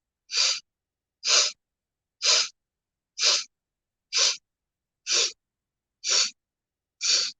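Eight deep, sharp inhales repeat evenly about once a second during a guided breathing exercise, each a close, breathy rush of air followed by silence.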